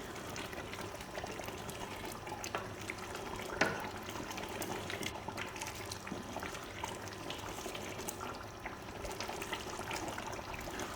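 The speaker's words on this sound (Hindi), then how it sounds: "ऑयल ऐड करने के बाद इसको अच्छी तरह 10 से 15 मिनट हम भूनेंगे।" Beef bhuna frying in oil in a pan, a steady close sizzle and bubbling with faint crackles running continuously, no talking.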